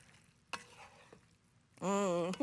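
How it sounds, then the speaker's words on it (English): A spoon stirs homemade sauce into a pot: a couple of sharp knocks and soft scraping, then a louder, squealing scrape toward the end. "We're going to add our sauce that we made right into that pot and stir all that together."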